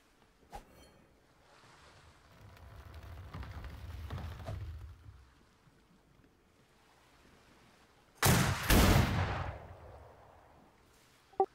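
Gunfire in the survival video game Atlas: a sharp crack near the start, a loud burst of closely spaced shots around the middle, and a single sharp report at the end, separated by low rumbling ambience.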